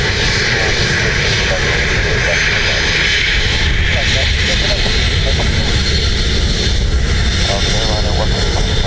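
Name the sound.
Aer Lingus airliner flying at Dublin Airport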